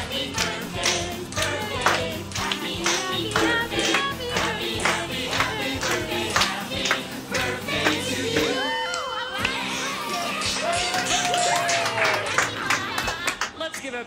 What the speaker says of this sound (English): A big round of applause to all our birthday kids.